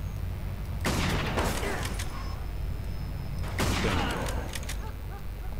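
Gunfire in a shootout in the video game Mafia 2, heard as two loud bursts of several rapid shots about three seconds apart over a steady, noisy game backdrop.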